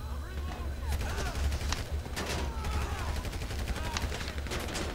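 Rapid bursts of gunfire in GTA Online, continuous automatic fire and repeated sharp shots across the whole span, dense and loud over low rumble, with a voice reacting in between.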